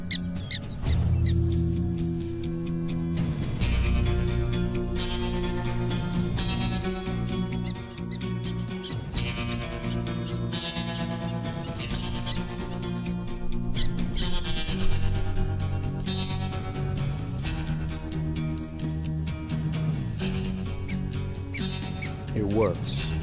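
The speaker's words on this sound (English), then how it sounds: "It's what "Look out, Rattler!" sounds like in prairie dog." Prairie dogs giving the alarm call that warns of a rattlesnake, with repeated high squeaking calls over a steady bed of music.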